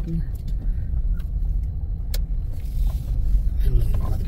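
Car rolling slowly along a road during Khareef season in Salalah, a low steady engine and tyre rumble heard from inside, with people talking over it.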